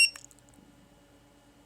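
A button press on an iTag Bluetooth tag sets off a quick burst of high electronic beeps, then a few fainter chirps, before the room falls nearly silent.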